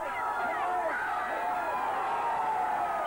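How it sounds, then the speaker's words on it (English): A dense crowd at the 1984 Britain's Strongest Man contest cheers and whoops continuously in a loud, sustained roar of mixed voices with no pauses. "He's got a hell of a crowd backing him up here."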